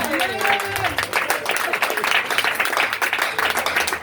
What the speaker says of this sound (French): Une petite acclamation à la parole